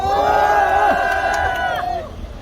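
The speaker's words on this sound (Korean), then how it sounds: "여러분 큰 함성 부탁드리겠습니다." At an outdoor protest rally against installing a statue, the crowd raises sustained cheers and shouts. The sound is loud and voiced and holds for about two seconds before trailing off into quieter crowd noise.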